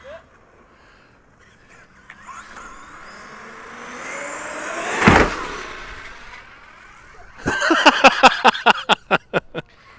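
Arrma Kraton 8S RC car jumping at a skate park: a quiet lead-in, then a sharp thud mid-clip as it lands, followed by a burst of loud, rapid rhythmic revving pulses near the end.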